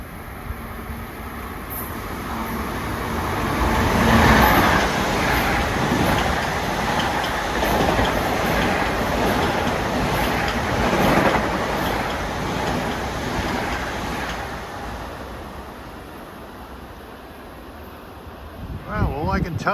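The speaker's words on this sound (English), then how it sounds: "here comes train 2062, New York Ronkonkoma flying through." A Long Island Rail Road passenger train on triple track speeds past on a damp day, a swelling rush of wheels and wind with rhythmic clickety-clack that fades over about twenty seconds.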